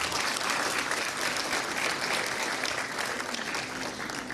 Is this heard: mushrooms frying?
no